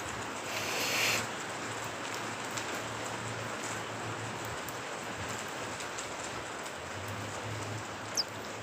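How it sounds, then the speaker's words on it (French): Rain falls outdoors beside a former textile dyeworks, a faint, even hiss of drops that runs steadily throughout with a low hum underneath and no voices. "Il se remet à pleuvoir."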